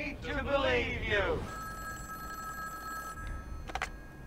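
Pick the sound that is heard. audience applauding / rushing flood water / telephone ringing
telephone ringing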